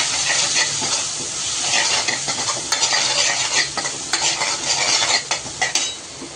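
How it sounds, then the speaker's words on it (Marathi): Masala powder, coriander powder and turmeric sautéing in a hot pan for a spicy shengole curry, a loud close sizzle and hiss with repeated scraping stirs and clicks of a spoon against the pan. "याला चांगलं परतून घेऊ"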